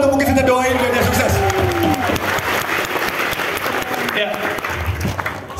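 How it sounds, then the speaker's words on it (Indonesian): Dense applause fills the clip, loud and continuous, with a voice speaking over it at the start. "Kita tepuk tangan"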